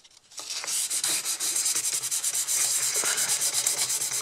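Old shellac polish is sanded by hand with 600-grit sandpaper, giving a steady, close, rhythmic rubbing with quick repeated strokes and no talking.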